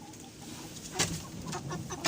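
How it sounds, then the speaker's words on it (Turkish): Laying hens clucking in short, scattered bursts, fairly close, with a few sharper squawks among the softer murmuring calls. "Tavuklarımız şunlar. Bunlar yumurta tavuğu."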